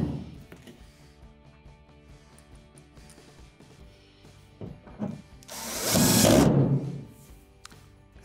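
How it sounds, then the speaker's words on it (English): A cordless power driver whirs in a short, faint burst, then a louder sustained whine as it sinks a screw into the back panel of an Amana clothes dryer during a blower wheel repair, amid light clicks and handling noises. "Get one started and then finish it off with your driver"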